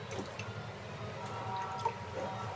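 Pointed gourd, spiny gourd and potatoes being washed in water, faint close-up drips, splashes and soft squishing of wet vegetables in a quiet kitchen.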